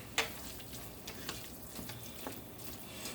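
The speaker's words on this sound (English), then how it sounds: "Let's give this a quick stir." Browning meat and vegetables for shepherd's pie being stirred in a pan, a faint low sizzle with soft scraping clicks of the spoon, quiet and close.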